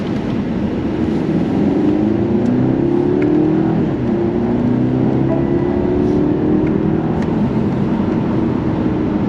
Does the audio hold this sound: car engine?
yes